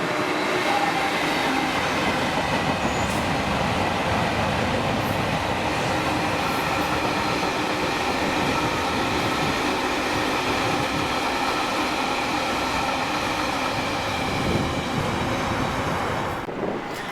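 A class 66 locomotive, 66537, hauls an engineering train from Paisley Gilmer Street to Carlisle, passing close as a steady, loud rumble of wheels and wagons with faint rail clatter throughout.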